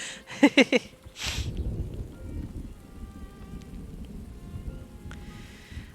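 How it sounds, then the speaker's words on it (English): Rain falls in the village-building game Farthest Frontier, a soft, steady patter that runs throughout after a few sharp interface clicks at the start. "Oh, is it because it's raining?"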